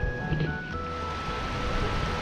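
Small waves lap steadily at the shoreline of Koh Larn island, a continuous soft wash of surf with light wind, close by and moderately loud with no voices.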